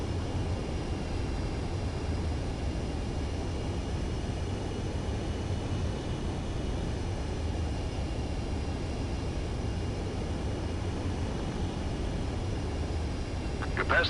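An aircraft on landing approach in a PS4 flight game gives a steady, even engine drone with broadband hiss that holds without change throughout.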